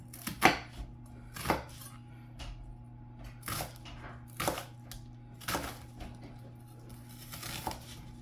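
A knife dices onion on a cutting board for chicken potpie, about eight distinct chops spaced roughly a second apart, close and fairly quiet, with no talking.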